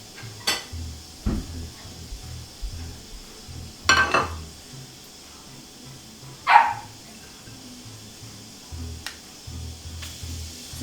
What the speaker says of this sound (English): he likes to make noise and bark at Romeo